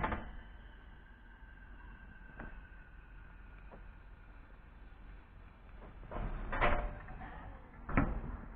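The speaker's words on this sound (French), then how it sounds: "On va fermer notre porte avant." Front door of an adapted minibus being shut, giving a couple of firm thuds near the end after quiet handling noise, close by with no talk.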